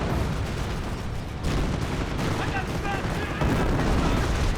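A quad halftrack fires in Company of Heroes, a dense, continuous rattle of rapid gunfire mixed with booming battlefield explosions that stays loud throughout.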